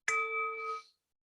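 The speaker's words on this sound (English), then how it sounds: "Every time you hear this bell throughout the call" A single bright bell or chime rings once as a breathing cue, a clean struck tone that sustains briefly and then cuts off, clear and alone.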